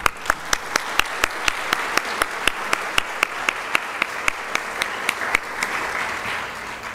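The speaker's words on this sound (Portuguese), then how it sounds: "Eu gostaria de pedir uma salva de palmas para ele." Clapping at a seminar on access to justice and Indigenous peoples comes as sparse, evenly spaced claps in a steady rhythm, moderately near and thin rather than a full crowd's roar.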